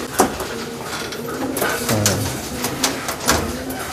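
A Chinese-type pigeon kept for competition coos close by in a steady, low, rolling series of repeated coos, with a few sharp clicks and rustles from the setting in between.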